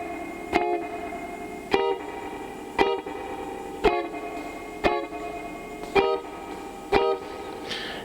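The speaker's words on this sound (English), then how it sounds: "It's just the guitar chomping on beats 2 and 4 for 4 measures." A lone electric guitar plays short, choppy chords on beats 2 and 4 over four measures, with eight crisp stabs spaced evenly about a second apart and quiet gaps between them.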